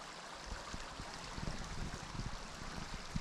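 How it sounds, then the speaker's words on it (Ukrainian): A small mountain stream flows below a path through dark, dense spruce forest, giving a steady broadband rush and trickle with faint low knocks, heard alone. "Струмочок внизу."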